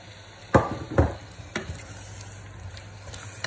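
Carrots and onion frying in a pan give a soft continuous sizzle, with two distinct stirring knocks early on followed by quieter scraping, and no voices.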